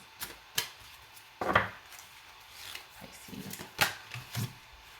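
Several brisk tarot card shuffles, each a short papery riffle, separated by quiet pauses, close and fairly soft with no talking.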